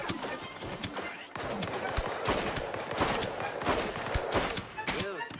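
Gunfire rattles in the video game Deceive Inc, with dense rapid shots and sharp bursts layered over busy game noise, loud and continuous throughout.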